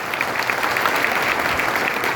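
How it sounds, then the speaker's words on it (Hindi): Dense, steady applause from a large crowd at a political workers' rally in Khargone, filling the whole stretch loud and close without a break. "तालियों की गड़गड़ाहट से उनका स्वागत, अभिनंदन करें।"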